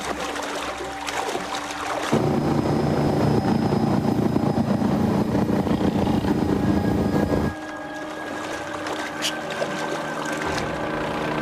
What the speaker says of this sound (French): Merde, des hélicoptères.